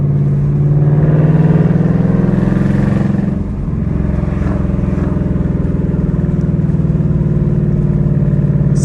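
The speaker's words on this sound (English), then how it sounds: "just listen to that Coyote engine" Ford Coyote V8 engine swapped into a Nissan 350Z with stock mufflers, resonator delete and cat delete, running loud and close with a deep steady rumble, a brief rev dip midway.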